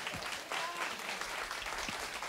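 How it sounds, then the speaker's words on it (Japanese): A club crowd at a dance battle applauds the losing competitor, dense continuous clapping filling the room at a fairly quiet level, with a few voices faintly underneath. "ティータングに大きな拍手を。"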